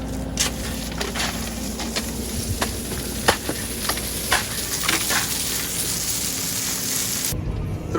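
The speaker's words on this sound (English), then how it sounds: "Bit of gravel going in." Gravel tipped into a drain manhole on a farm makes a steady crackling patter of stones trickling and clattering, fairly close, ending abruptly.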